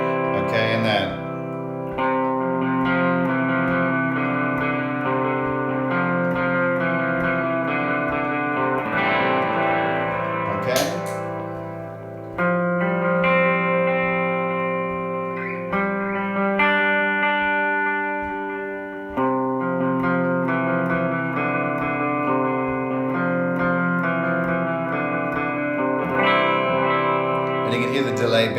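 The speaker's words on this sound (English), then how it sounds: "And you can hear the delay bouncing in the background and, you know, the chorus." Electric guitar played at a slowish worship tempo through delay and chorus effects, with repeats echoing behind sustained, shimmering chords; steady and fairly loud throughout, no talking.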